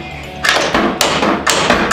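A hammer bangs a car suspension part into place during front suspension repair on a Spyder. There are three or four heavy, sharp thuds in quick succession, loud and close.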